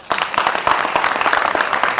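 An audience at a public event breaks into dense, steady applause, many hands clapping close and loud for the full stretch with no speech over it.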